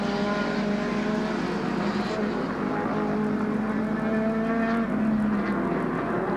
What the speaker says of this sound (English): McEwen in the Lotus Cortina, power weight ratio a little better suited for this very, very wet place